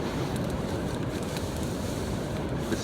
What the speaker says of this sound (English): there was going to be 60-mile-an-hour gusts, and it feels like hurricane status